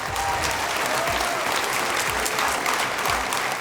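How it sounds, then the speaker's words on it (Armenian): An audience at a televised talent show final claps loudly and continuously, dense sustained applause filling the hall for several seconds without a break. "Եկեք բարձր ծափահարենք։"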